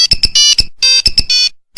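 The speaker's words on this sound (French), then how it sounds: "1 heure plus tard, nouveau coup de téléphone." A telephone ringing in quick repeated electronic bursts, loud and close, with short gaps between the rings and no voices.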